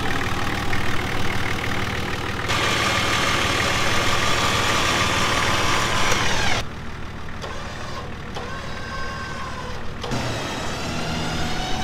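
A 4WD engine on the Old Telegraph Track rumbles steadily near the microphone, revving harder as the vehicle pushes into an obstacle, then settling to a lower idle with some clunks and creaks.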